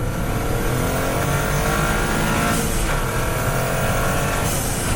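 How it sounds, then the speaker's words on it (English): A 2024 Toyota GR Corolla turbo engine revs hard and steady for several seconds, loud and close from inside the car, with a brief turbo blow-off valve hiss toward the middle, and no talking. "You get a little bit of the turbo blow-off valve"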